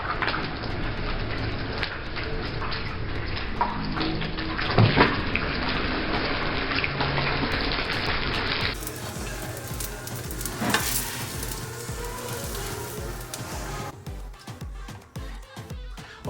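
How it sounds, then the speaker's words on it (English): Katlama flatbread filled with potato and cheese fries in oil in a covered pan over medium heat, giving a steady crackling sizzle with occasional sharper pops and stirring clatter. "fry katlama on the medium heat under the lid for about 7 minutes"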